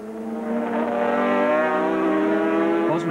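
Sidecar racing outfits from the 1984 Sidecar Grand Prix roar past at Mount Panorama, Bathurst, with a loud, sustained engine howl that rises in pitch and holds close before tailing off as they go by.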